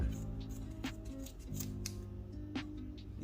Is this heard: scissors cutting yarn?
yes